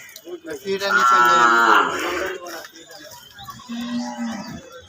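Cattle on a farm mooing close by, one long drawn-out moo followed by a shorter, lower call, with faint voices in the background.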